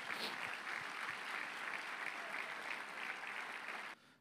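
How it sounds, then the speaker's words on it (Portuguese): A church congregation applauding steadily, a dense wash of many hands clapping at once in a reverberant hall, continuing evenly before cutting off abruptly near the end. "Aplauda o seu Jesus por isso."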